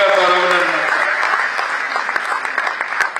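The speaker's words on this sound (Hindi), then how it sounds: "एक बार जोरदार तालियों से अध्यक्ष जी का स्वागत और अभिनंदन" An audience at a political gathering in Jodhpur applauding to welcome the state party president, a loud, dense wash of clapping that holds steady, while a voice calls out over it at the start.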